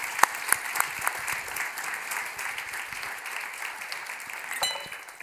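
A room full of people applauds at a report launch, steady clapping with a few sharp individual claps standing out, continuing evenly before tapering slightly.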